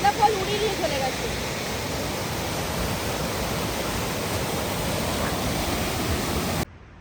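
Thanda Falls at Katao in North Sikkim pours in winter with a constant, close, roaring rush of water, loud and unbroken for several seconds before cutting off abruptly.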